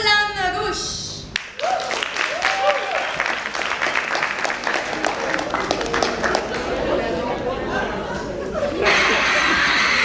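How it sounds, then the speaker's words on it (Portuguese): A comedy show crowd breaks into applause that builds into a sustained clatter of clapping, with cheers and a voice over it, then fades. "Recebina com um forte aplauso."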